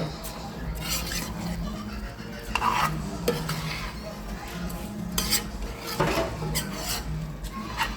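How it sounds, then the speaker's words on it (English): Rice is stirred in a pot for Trinidadian chicken pelau, with a continuous close scraping and rubbing of the spoon against the pot and occasional louder clinks, steady throughout with no voice. "now I'll be mixing up this so that the rice will be able to get that nice golden color"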